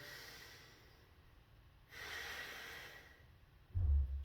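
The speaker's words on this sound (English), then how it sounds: "you're going to do a couple of deep breaths" A slow, deep breath drawn in and let out during a posture breathing exercise, a soft airy whoosh that swells for about a second, followed by a low thump near the end, faint and close.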